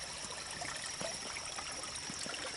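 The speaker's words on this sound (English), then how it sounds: "nice little bubbling stream here." A small creek on a forest nature trail in Snow Camp, North Carolina, trickles and bubbles steadily over stones, a continuous close gurgle with small splashes and no voices.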